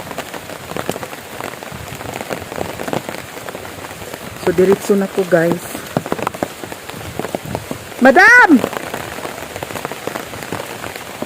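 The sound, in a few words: heavy rain falling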